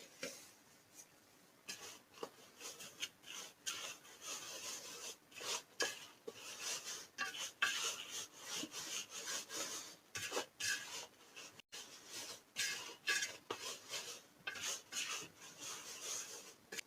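Maftoul couscous dough being hand-rolled with white flour, a continuous close rasping rub of palms working the grains, with irregular bursts of scraping and no talking.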